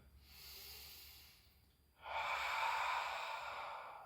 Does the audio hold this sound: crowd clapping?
no